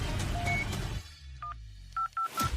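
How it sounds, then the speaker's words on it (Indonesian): A telephone is dialed to call a wife, a short string of distinct keypad tones beeping one after another, preceded by a brief burst of background noise. "Aku telepon istriku"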